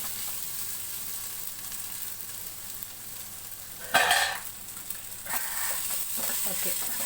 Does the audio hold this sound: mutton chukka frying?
yes